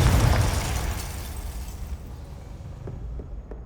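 A Confringo blasting spell explodes in the Hogwarts Legacy video game: a loud, close burst that booms at once, then rumbles and fades away over a few seconds with no voices.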